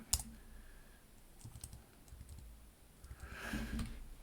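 Computer keyboard typing during a programming session: scattered soft key clicks with a few sharper taps, close and fairly quiet, ending in a slightly busier burst.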